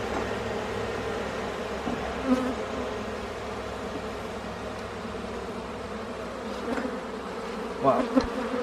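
Honey bees from an opened beehive buzz in a steady, dense drone close by, with a few individual bees swelling louder as they fly near.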